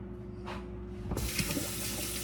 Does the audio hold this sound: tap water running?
yes